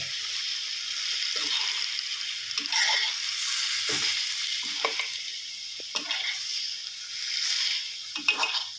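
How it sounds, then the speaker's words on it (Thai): Chicken curry with pickled bamboo shoots, chillies and vegetables is stir-fried in a pan, with loud, hissing sizzle bursts and repeated stirring scrapes coming in uneven waves, close up and with no one talking. "ผัดให้ ผักเขายุบตัวนะครับ"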